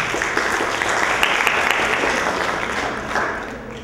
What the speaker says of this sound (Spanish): Así que empezamos con David Flores, un fuerte aplauso para él.